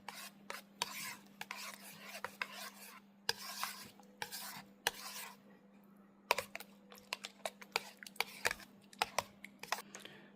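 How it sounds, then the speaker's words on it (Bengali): A spoon stirs and mixes block-printing colour paste in a small container, giving irregular quick scraping and tapping clicks in bursts over a faint steady hum, close and fairly quiet. "এই যে দেখেন পেস্টটা কিন্তু ভালোভাবে চামচ দিয়ে নাইরা মিশিয়ে নিচ্ছে।"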